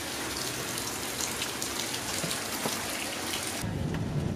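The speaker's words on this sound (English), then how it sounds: "It's raining, guys." Steady rain pours down, a dense continuous hiss of drops hitting surfaces, loud and close throughout.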